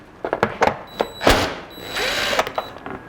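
A 12 mm hand wrench works the belly pan bolts on a 2015 Subaru Forester, giving a few close, sharp ratcheting clicks and metallic scrapes in short bursts.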